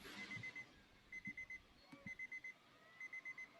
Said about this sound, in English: I hear the beeping.